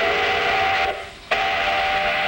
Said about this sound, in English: That's an ore train, a symbol of a great Minnesota industry.